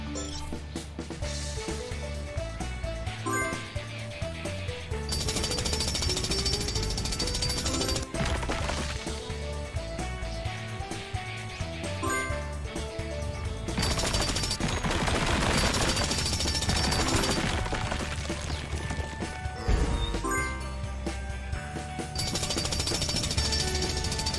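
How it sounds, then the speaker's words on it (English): A loud jackhammer-style drill pounds rapidly against rock in long sustained bursts with short pauses, crunching and rattling throughout. "Help Rubble use his drill to clear the way."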